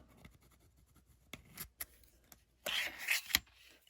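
A pencil draws lines across a foam or craft surface in short scratchy strokes, a few brief swipes followed by a longer burst of rubbing, close and fairly quiet.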